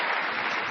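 A live audience at the Miss USA pageant in Knoxville, Tennessee, roars with a dense, steady wash of cheering and applause that stays loud and unbroken throughout the short moment.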